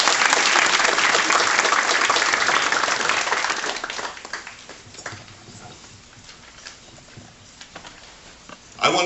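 An audience applauds two gentlemen at an Indian Arrival Day event, loud dense clapping that gradually thins and fades to scattered claps, with a brief burst at the very end.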